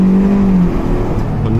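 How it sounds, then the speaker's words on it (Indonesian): A custom-tuned car is pushed to full throttle, and its engine gives a loud, close roar as it accelerates. "Sekarang kita nyobain nih ya, gaspol."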